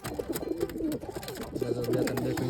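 A pigeon coos close by in a short run of soft, throaty calls with no talking.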